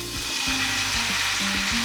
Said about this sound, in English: I'm gonna fry it about 3 minutes on each side until it turns golden brown.